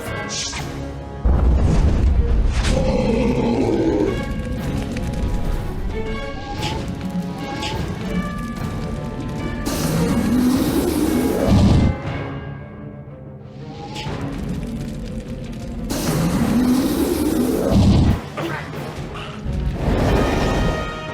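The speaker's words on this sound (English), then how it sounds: "Let's see if Fire Dragon can finish them off." A Fire Dragon spell attack in the Wizard101 video game bursts out in loud booming crashes and roaring whooshes with musical game effects, rising and falling in several heavy surges.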